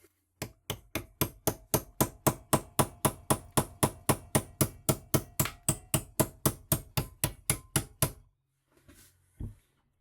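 Hammer driving a punch into a pressure relief valve being scrapped: about two dozen sharp metallic strikes in a fast, even rhythm, close and loud, then a brief pause and one last knock.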